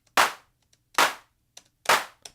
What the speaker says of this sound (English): Just the classic clap.